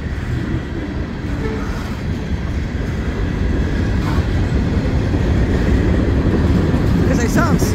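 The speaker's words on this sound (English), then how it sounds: "it looks like the same train to me" A train rumbles past close by, steady and loud, with rhythmic clattering of wheels on the rails and a faint squeal near the end.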